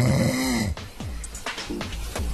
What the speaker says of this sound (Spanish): sus ronquidos incluso lo despiertan